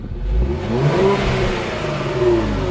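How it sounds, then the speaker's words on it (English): Twin-turbo car engine revving in sport mode, a nearby rumbling rise and sustained roar with a slight rattle lasting under three seconds. "Put it in sport mode and give me some revs."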